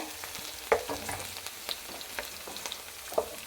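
Garlic fries in coconut oil with a soft, steady sizzle, while a utensil stirs it and scrapes the pan in a few sharp, separate clacks. The sounds are close by, and no one speaks.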